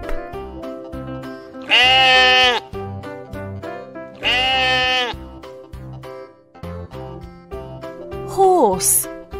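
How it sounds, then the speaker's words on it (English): Two loud, wavering sheep bleats, evenly spaced, followed by a short high squeaky sound over a bouncy musical backing. "Sheep."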